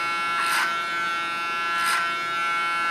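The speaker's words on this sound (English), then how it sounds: "Just again with a clipper over comb technique." An electric hair clipper buzzes steadily close by while cutting a short pixie haircut using clipper over comb, with two brief brighter swells as it passes through the hair.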